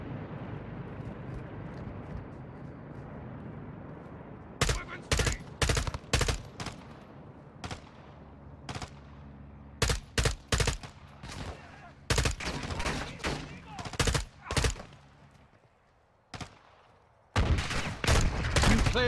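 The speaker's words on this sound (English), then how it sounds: "He shot me through that boulder in front of me" Gunfire in Call of Duty Modern Warfare 2's campaign mission Cartel Protection, loud bursts of rapid automatic shots in repeated volleys over a low rumbling battle background, with brief pauses between clusters.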